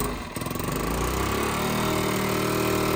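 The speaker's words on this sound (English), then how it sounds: "So the engine runs," A 50cc scooter engine, freshly rebuilt from a battered free machine, putters up from a brief uneven start into a steady, buzzy idle that holds close and loud to the end.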